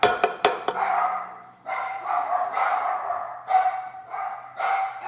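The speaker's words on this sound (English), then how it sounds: "there go the dogs again." Several dogs bark in a quick burst of sharp yips, then keep up a steady run of barking and whining at moderate distance, heard alone with no talk.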